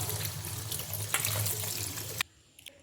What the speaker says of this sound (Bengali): পাস্তাটা যাতে একদম না আটকে যায় তার জন্য একটু ঠান্ডা জল দিয়ে ভালো করে ধুয়ে নিলাম।